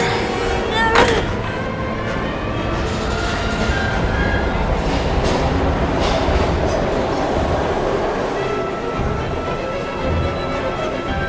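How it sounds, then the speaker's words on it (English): A train in the video game Heavy Rain rumbles steadily and loudly throughout with a continuous clattering wheel roar, close and unbroken, with a brief sharper squeal or clank near the start and faint background voices. "We've got to get on that train, Ethan."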